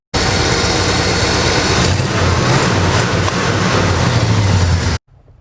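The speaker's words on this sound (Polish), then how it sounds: "Piękne, oryginalne V8, które brzmi jak żaden inny nowoczesny silnik." A 1965 Chevrolet Impala with its original 283 cubic inch (4.6 litre) V8 runs with a deep, steady rumble, loud and close and holding a constant note, before cutting off abruptly into near silence at the end.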